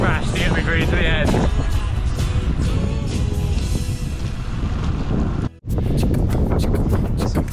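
A strong headwind buffets the microphone of a solo cyclist riding from Land's End to John o' Groats, with a loud, continuous roar and rumble that cuts out briefly near the end.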